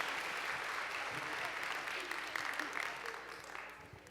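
Steady applause from an audience at a college class welcome event, a dense wash of clapping that holds for several seconds and tapers slightly near the end.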